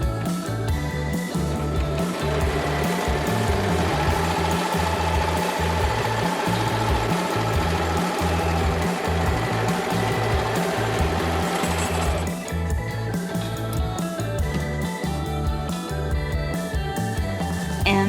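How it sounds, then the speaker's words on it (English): A sewing machine runs continuously while stitching ruffled trim for a cottagecore dress, a loud, steady mechanical hum with a rapid rhythmic needle beat that shifts in tone near the end, with no talking. "Now I just have to sew it together and ruffle it"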